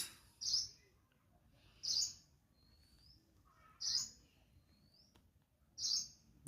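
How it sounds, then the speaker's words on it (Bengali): A bird in the Sundarbans mangrove forest gives four sharp, high chirping calls at regular intervals, with quieter whistles between them, over a faint, calm outdoor background. "পাখির ডাক"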